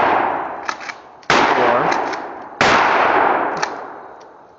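Three loud shotgun blasts from a short-barreled shotgun, firing buckshot and slug loads outdoors, each a sharp crack with a long decaying tail, spaced about a second and a quarter apart, with no talking.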